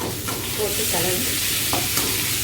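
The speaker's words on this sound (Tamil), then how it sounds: "நல்லா வதங்கிட்டோம். வதக்க இதுவே வெந்துடும்." A potato fry sautés in a pan, giving a steady close sizzle broken by a few scraping stirs of the spoon, with no voices.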